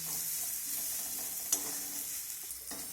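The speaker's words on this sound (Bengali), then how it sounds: "এখানে পেঁয়াজটাকে ভেজে নিয়েছি।" Onions fry quietly in a pan, a soft continuous sizzle heard close but faint, broken once by a light clink of a utensil and a brief scrape near the end.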